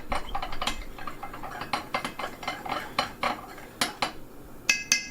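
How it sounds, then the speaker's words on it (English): A spoon stirs bread dough in a bowl, producing a steady series of close scraping clinks and taps in an irregular rhythm, with no voices. "And then I stir this on. It needs to stir."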